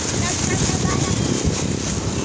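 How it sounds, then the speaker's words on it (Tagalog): Strong wind buffets the microphone in a constant loud roar, broadband and rumbling throughout. "Malakas ang hangin."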